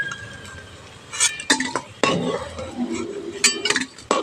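Fried lentil cakes (dhoka) being lifted out of an oil-filled kadai, with a few close clinks and scrapes of a metal utensil against the pan over a faint background hiss.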